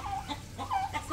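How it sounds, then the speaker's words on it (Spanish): A hen clucks in short, repeated bursts at close range, a choppy rhythm of nasal calls over faint background noise around a grandparents' house. "voy a espantar a esta gallina"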